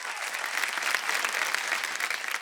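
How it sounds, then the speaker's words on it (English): A studio audience at an interview with an Indian actor gives a round of applause, a continuous, even patter of many hands clapping at moderate level throughout. "Can we just give him a round of applause for that?"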